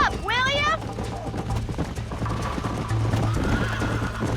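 A horse in the Western video game Red Dead Redemption neighs with a sharp, loud whinny at the start, then its hooves clip-clop steadily in a running rhythm beneath game sound and voices.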